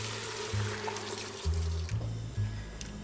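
Red wine pours into a cooking pot in a few short gurgling bursts, close and fairly quiet, with faint kitchen background.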